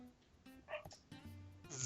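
A dog gives a few short, yipping barks and whimpery yelps in quick succession, fairly faint and a little distant, with quiet room noise between them.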